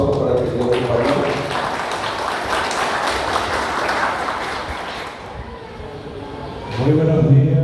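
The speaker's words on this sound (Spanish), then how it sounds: "Fuerte los aplausos para que Dios nos ayude." Crowd applause at a political campaign rally for a departmental board candidate in San Pedro, a dense wash of clapping that fades somewhat before a voice speaks at the end.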